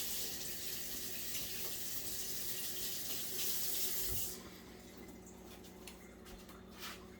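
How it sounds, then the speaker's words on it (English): Tap water runs steadily into a sink as hands are washed during cooking, a strong broad rush that drops to a lighter patter and splash after a few seconds. "And wash my hands so I don't contaminate"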